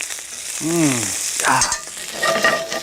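Garlic and whole Italian parsley leaves sizzle in a pan for a sofrito, giving a loud, close crackling hiss with a brief squealing whine as the leaves hit the hot oil.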